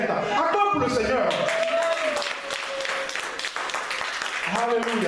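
A church congregation applauds during a worship service, a steady wash of clapping that runs the full length, with voices and a sustained sung or musical tone over it.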